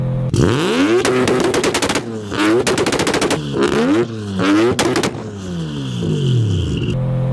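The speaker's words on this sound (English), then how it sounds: "this car is so loud with a 4-inch exhaust all the way through, and when it two-steps, this blows your eardrums out" Loud three-rotor Mazda RX-7 with a 4-inch exhaust all the way through, two-stepping up close: repeated bursts of rapid machine-gun-like popping and crackling, broken by short sweeping revs, then a rising engine drone at the end.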